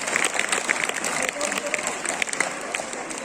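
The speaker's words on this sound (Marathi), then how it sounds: "जोरदार टाळ्या वाजवायच्या सर्वांनी" Audience at a school prize-giving ceremony breaks into dense, crackling applause from many hands, sustained throughout, with a voice speaking over the clapping.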